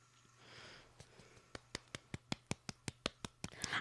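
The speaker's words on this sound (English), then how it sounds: "I'm clapping for y'all" One person claps slowly at a podcast recording, a dozen or so faint, evenly spaced claps that pick up slightly in pace, heard fairly near and alone over low background hum.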